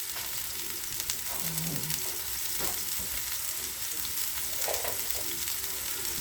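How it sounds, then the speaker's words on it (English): Ground beef fries in a pan, giving a steady close sizzle and crackle throughout, with occasional stirring and scraping and no talking. "I'm going to cook my ground beef for, about 5 to 7 minutes till there's no pink left in it."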